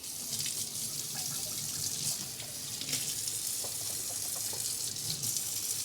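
A can is rinsed under a running kitchen tap, with steady splashing water and small clinks and drips close by, no voices.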